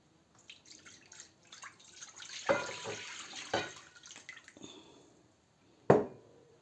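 A liter of water for a marinade pours and splashes into a pot in uneven bursts, with a couple of louder gushes and a sharp clank near the end.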